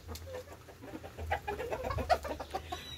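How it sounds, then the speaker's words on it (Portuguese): Clucking chickens or a rooster close by, a few short bursts of fowl calls over quiet outdoor background. "o galo, o galo, o galo"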